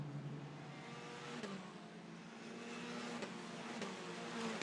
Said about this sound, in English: The number 12 CL Motorsport car that now makes its way up the hill through towards turn 3.